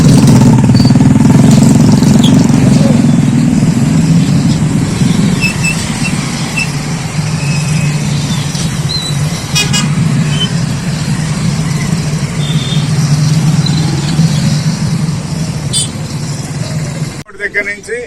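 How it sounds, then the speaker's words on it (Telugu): Motorcycles in a police helmet-awareness bike rally at Ambedkar Centre in Palnadu rumble and idle loudly in a steady engine drone, with voices talking over them. "అంబేద్కర్ సెంటర్ లో బైక్ ర్యాలీని నిర్వహించారు"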